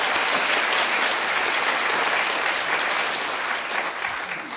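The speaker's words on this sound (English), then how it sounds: "Round of applause, please," An audience gives a round of applause for a speaker at a panel event on the planet's future, with loud, dense, sustained clapping throughout that tails off slightly at the end.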